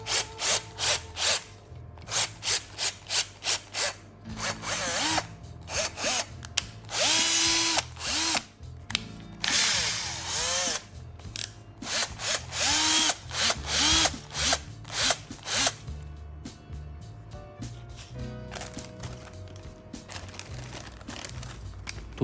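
Bosch GSR 120 cordless drill running in repeated short bursts and some longer whirring runs, close and loud, with trigger pulses stopping and starting and faint handling rattles between them.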